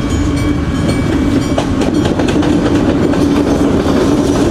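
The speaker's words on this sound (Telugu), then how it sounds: "అప్పుడే వచ్చేసింది ట్రైను." A train rolls fast past a railway level crossing gate in Mandalay, Myanmar, its wheels rumbling and clattering loudly and steadily throughout, close by with no break.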